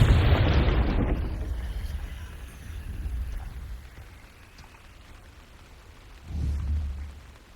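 Fire spell explosion in the video game Hogwarts Legacy, a deep rumbling boom at the start that fades into a low roar, followed by a second softer thump several seconds later.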